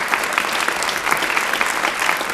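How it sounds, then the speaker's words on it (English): A large audience at the 2024 State of the State address breaks into dense, sustained applause. Many hands clap steadily and fairly loudly for the whole stretch. "that is worth clapping for"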